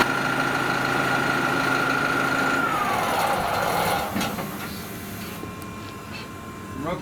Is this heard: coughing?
no